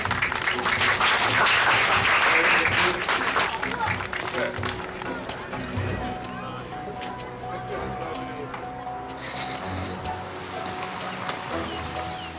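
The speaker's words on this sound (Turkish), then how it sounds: "Evet, alkışlıyoruz." A small group claps loudly at first, the applause thinning and fading over several seconds while people talk and background music continues underneath.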